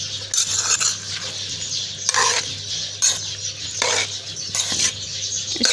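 A spoon stirs and scrapes food around a cooking pot, with repeated scraping strokes in steady rhythm, close and fairly quiet, with no talking.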